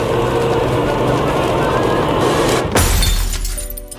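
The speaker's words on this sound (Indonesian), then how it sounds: "dikagetkan oleh figura orang tuanya yang jatuh dan pecah" A framed picture drops and shatters, a sudden sharp crash of breaking glass cutting through a steady rumbling background, followed by a short scatter of tinkling fragments.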